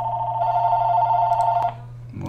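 A telephone rings during a call with a steady electronic buzzing tone held for well over a second. It cuts off abruptly and is followed by a brief low, muffled sound.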